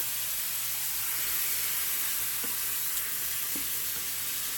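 Onions and a zucchini squash sizzle in a hot frying pan, a steady close hiss with a couple of faint clicks and no talking.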